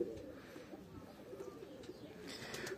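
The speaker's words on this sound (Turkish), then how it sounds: "Bunlar bizim mahzendeki kuşlarımız." Breeding pigeons cooing in a cellar loft, soft low throaty coos repeating steadily and close by, with faint flutters and rustling in the background.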